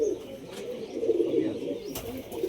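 Pigeons of many breeds, local and racer types among them, coo softly nearby in low, rolling murmurs that repeat through the moment, with faint clicks and shuffles around them.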